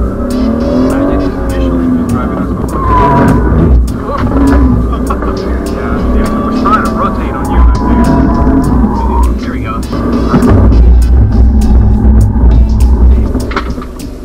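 A BMW 340i fitted with Pirelli P Zero tires drives steadily, its engine droning and surging with revs while a person talks over the road noise.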